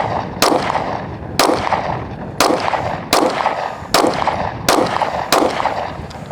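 A Smith & Wesson M&P 9 Shield pistol fires eight sharp, loud single shots at a steady pace of about one per second, each crack followed by a short echo.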